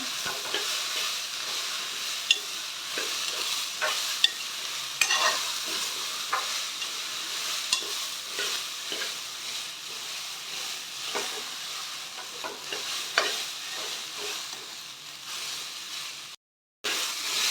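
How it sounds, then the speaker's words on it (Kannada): Mixed sprouted gram fries in a pan with a steady broadband sizzle, punctuated by scraping stirs and small clicks of a spoon against the pan, close and continuous with a brief silent gap near the end. "ಇದನ್ನು ಸ್ವಲ್ಪ ಈ ಥರ ಫ್ರೈನೇ ಫ್ರೈ ಮಾಡ್ಕೋಬೇಕು"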